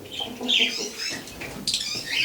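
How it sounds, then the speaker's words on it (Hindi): A young pigeon gives thin, high-pitched squeaky chirps in a few short bursts, close by, with no talking. "ये मेरा कबूतर का बच्चा है।"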